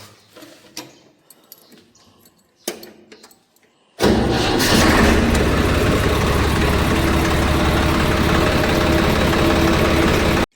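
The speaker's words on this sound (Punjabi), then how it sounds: "ਚੱਲਦੇ ਆਂ ਲੈ ਕੇ ਟਰੈਕਟਰ ਆਪਾਂ" A tractor engine, out on a sugarcane farm, stays quiet at first under a few knocks and clatters, then roars loudly to life around the midpoint and keeps running at a steady, close, droning idle.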